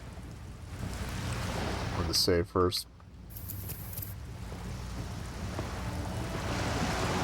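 Steady rain falls on the streets of Disco Elysium's Revachol, a constant wet hiss in the background while someone speaks briefly in the middle, and the downpour continues alone afterward.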